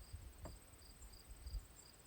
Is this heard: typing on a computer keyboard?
no